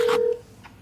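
A phone being dialed on speakerphone: a short, loud electronic tone burst with a steady pitch, then quieter faint beeps trailing off, with no talking.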